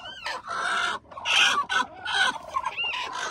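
Hens on a small farm clucking in several short bursts, close and fairly loud, with a few sharper squawks between the clucks and no talk.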